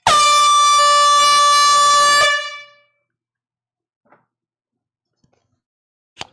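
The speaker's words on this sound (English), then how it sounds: "A late night air horn." A loud, sustained air horn blast at night lasts about two seconds before cutting off, followed by near silence with a few faint distant knocks.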